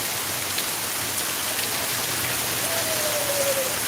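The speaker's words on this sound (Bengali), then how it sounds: "প্রচুর বৃষ্টি হচ্ছে, প্রায় 15 মিনিটের উপরে হবে" Heavy rain pours at night in Sylhet, a steady dense hiss of drops hitting surfaces that holds at an even loudness throughout, with no voices over it.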